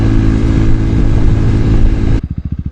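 KTM RC390 motorcycle accelerating hard with a continuous loud engine roar for about two seconds, then an abrupt cut to a low, pulsing idle-like throb of rhythmic beats.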